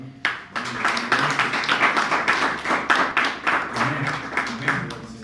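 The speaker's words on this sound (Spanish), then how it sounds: "damos un fuerte aplauso al Señor" A church congregation claps together for the Lord, a dense and steady burst of applause with rhythmic hand claps that carries on for several seconds at moderate loudness.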